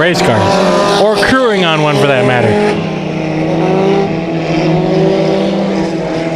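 Race cars in heat races at Bakersfield Speedway: loud engines roar and rise in pitch as they sweep past nearby, with a brief tire squeal, then settle into a steady distant drone under a broad crowd-and-track wash.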